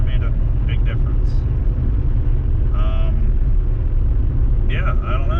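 Steady low road rumble from a 1993 Chevy S10 Blazer on new tires, cruising along smoothly and loud inside the cabin, with people talking over it.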